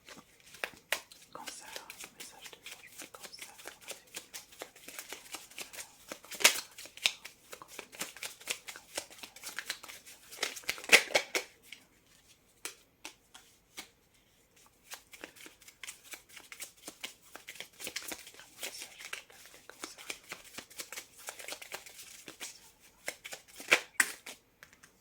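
Tarot cards are shuffled by hand in repeated bursts of riffling and rustling, loud and close, with short pauses between rounds.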